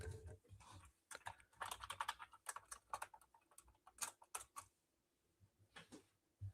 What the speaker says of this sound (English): I can hear me typing.